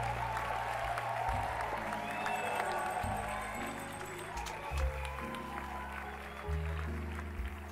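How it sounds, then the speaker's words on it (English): Applause and cheering from a game crowd in Stardew Valley, a steady wash of clapping with music-like tones running underneath throughout. "Let's have a cheer for everybody."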